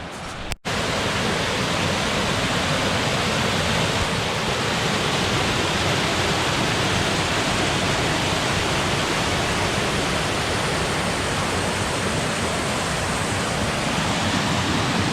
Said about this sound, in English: Coming up to another waterfall.